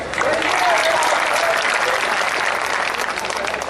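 Loud, sustained applause from a large audience at a poetry gathering in Amroha, thick and continuous from start to finish, with a faint crowd murmur underneath.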